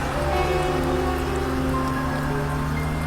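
Heavy rain pouring on a truck driving a muddy road through a lonely, eerie forest at night in a Hindi horror cartoon, a loud continuous downpour hiss over a low engine drone and faint tones.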